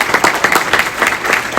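Loud, close applause fills the room for panel members at a professional development session, many hands clapping in a fast, uneven patter.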